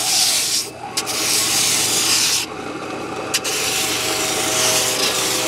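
A Berkeley Pump drum sander grinds across a wooden board, a steady loud broadband abrasive rush with two brief dips where the stock lifts, alone without talk.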